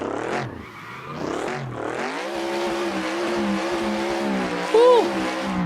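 A race car engine revs hard in the Assetto Corsa driving game while drifting. The pitch rises and falls through gear changes into a sustained high whine, and a brief tire squeal cuts in near the end, loud and close.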